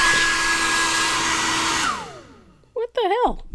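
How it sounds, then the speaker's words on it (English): A heat gun blows a steady, loud, whining roar while drying white acrylic paint on a lily painting, then winds down as it cuts out, followed by a short exclamation from a woman. "I think my heat gun just quit."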